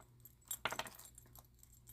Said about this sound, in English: I usually carry 2 keys with me whenever I'm you know, something like a vehicle key or something important